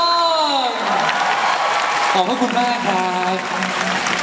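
Applause for a performer at a Thai stage show and talk event, a steady dense wash of clapping that carries through the whole stretch while someone speaks over it, with singing-like tones fading early on.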